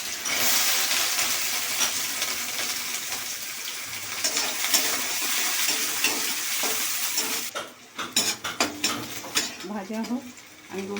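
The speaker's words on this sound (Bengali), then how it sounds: "তেলটা গরম হয়ে গেছে, আমার এই পেঁয়াজ কুচোটা" Chopped onion sizzles loudly in hot mustard oil for a Bengali ghugni, a steady dense hiss that gives way after about seven seconds to rhythmic stirring and scraping clatter of a utensil against the pan.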